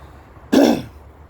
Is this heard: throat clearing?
yes